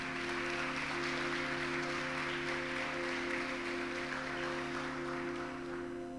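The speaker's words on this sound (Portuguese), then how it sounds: "Aplauda o Senhor mais uma vez." A congregation applauding during an evening church service, a continuous, even roar of clapping hands at low level over a sustained musical hum throughout.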